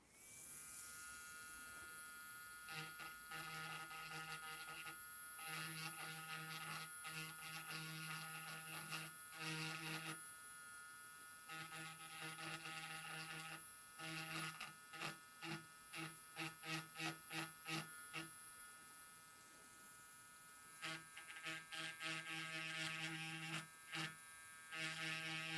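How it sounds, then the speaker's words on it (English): A small rotary grinding tool cuts into circuit board traces on an Xbox Series S during repair, giving faint whining bursts that start and stop in short pulses over a constant electrical hum. "we'll grind this part off right here. So I'm going to grind off some little section of each of these traces"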